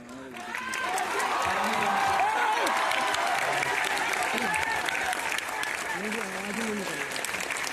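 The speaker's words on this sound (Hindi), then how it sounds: "तालियां नहीं रुकनी चाहिए।" An audience applauds steadily at a ceremony where an award is handed over, the clapping rising quickly and holding, with voices speaking over it at times.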